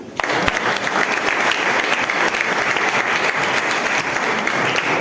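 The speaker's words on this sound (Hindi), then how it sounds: "अच्छा, वंदना में एक ताली होना चाहिए।" Loud, sustained applause from a crowd, dense clapping steady for several seconds with no pause.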